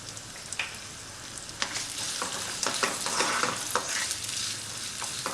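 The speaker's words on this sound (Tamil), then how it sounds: "இது எல்லாத்தையும் சேர்த்து ஒரு வாட்டி நல்லா வதக்கிக்கலாம்." Ginger, garlic and green chilies sautéing in a pan, a steady close sizzle broken by repeated scraping knocks of a spoon as the mixture is stirred, with no voices.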